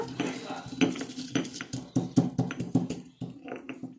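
Black cumin seeds are pounded in a mortar with a steady run of dull, rhythmic thuds, several per second, close up with a slight clinking edge.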